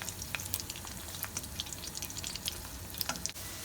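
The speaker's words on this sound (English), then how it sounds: "I added the dates. So we have to fry that too a little bit." Dates frying in a pan for a sweet and spicy inchi curry, a soft steady sizzle broken by small clinks and scrapes of stirring, close and fairly quiet, with no talking.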